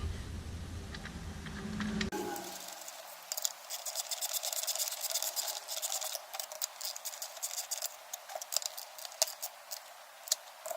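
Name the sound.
spark plug being installed with a socket wrench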